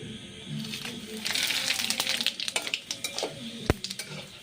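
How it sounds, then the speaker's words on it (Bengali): Whole spices (bay leaf, dried chilli, cumin, cardamom, cloves, cinnamon) hit hot oil in a pan for an egg curry, a soft sizzle rising as a spoon stirs with light metallic clinks and taps. "আর তেলটা গরমও হয়ে গেছে, আর এবার আমি ফোড়ন দেব।"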